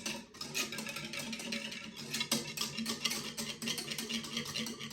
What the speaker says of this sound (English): the more you whisk it, the thicker it's going to get